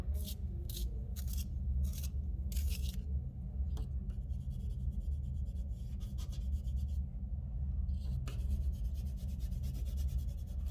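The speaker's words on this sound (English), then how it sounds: "Sharpen my pencil some more." A pencil being sharpened during a shading drawing lesson, heard as a run of close, rhythmic scraping bursts that come in quick clusters and then trail off into quieter intermittent grinding, with no talking over it.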